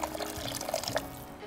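Water poured into a pot of tortilla soup broth, a soft, brief trickling splash heard close up with no talking.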